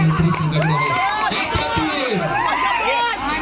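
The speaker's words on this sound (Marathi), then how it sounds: "प्रेक्षकांचा आवाज येतोय." Spectators at a village kabaddi match cheer, whoop and shout in a lively, continuous crowd roar with children's high voices, loud and close, mixed with chatter.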